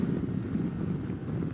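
A 2017 Kawasaki Versys-X 300 motorcycle with a stock exhaust holds a steady, droning engine note near 10,000 RPM, a continuous low hum that stays fairly quiet and even throughout.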